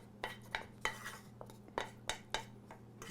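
A utensil scrapes and clacks a corned beef and cabbage empanada filling from a pan onto a cutting board, with about a dozen quick, fairly regular taps and scrapes, close and moderately loud over a faint low hum.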